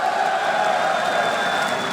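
Arena crowd at a CS:GO esports final in the Spodek Arena, Katowice, Poland, roaring in a dense, sustained wash of cheering and noise that fills the space evenly.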